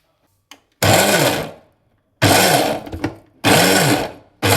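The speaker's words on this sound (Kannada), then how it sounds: "ಇಷ್ಟು ಹಾಕ್ಕೊಂಡ್ಬಿಟ್ಟು ಮಿಕ್ಸಿ ಮಾಡ್ಬೇಕು. ಈಗ ಮಿಕ್ಸಿ ಮಾಡೋಣ" An electric mixer grinder blends jaggery with powder in three loud, close bursts, each a harsh motor whir cut off by short silent pauses, with a fourth burst starting at the end.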